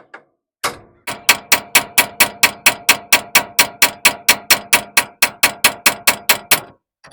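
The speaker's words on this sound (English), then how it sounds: "we can tap here with a hammer so this spits it out with a vibration and the hits" A hammer strikes a Ford E-series or F-series steering knuckle to loosen a ball joint about twenty times in a fast, even rhythm, each blow loud, sharp and close with a short ring.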